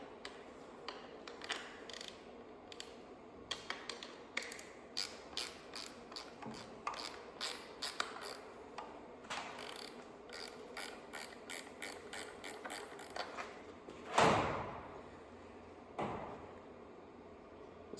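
Wrench ratcheting bolts off an LS engine during a cam swap: close, quiet rapid clicking pawl bursts in uneven runs, with a louder clank of metal near the end.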